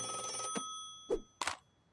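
A cartoon hotline phone rings in bright, repeating electronic trills, with a couple of sharp clicks and bursts near the end and a steady ringing tone underneath.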